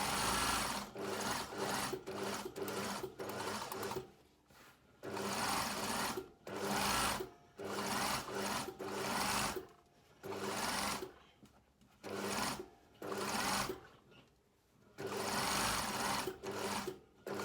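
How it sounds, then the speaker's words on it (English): A sewing machine stitches around a blazer's pocket bag in repeated bursts of close, steady running, with short pauses between runs as the needle is stopped and the work pivoted. "needle down, lift the foot, pivot, and sew around the pocket bag"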